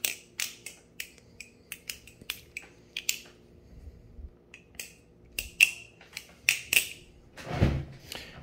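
A Marcolo C116 butterfly knife is flipped by hand, giving rapid sharp metallic clicks and snaps in uneven bursts, close and crisp, with a brief rustle near the end.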